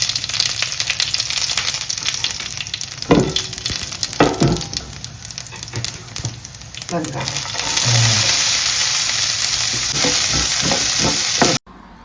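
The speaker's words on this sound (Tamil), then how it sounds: "இப்போ நல்லா வெங்காயம் வதங்கட்டும்" Onions with mustard seeds sauté in a pan for Sri Lankan-style crab varai, a steady broadband sizzle with occasional spatula scrapes and clanks, the frying swelling louder and denser over the last few seconds.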